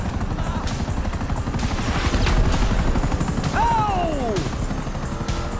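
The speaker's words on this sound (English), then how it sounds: "Another chopper!" Helicopter in the video game GTA V, a loud, steady rotor roar that fills the whole stretch, with a brief pained shout from a person partway through.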